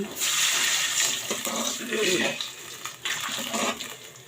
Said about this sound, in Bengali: এখন দিব আমি পরিমাণ মতো পানি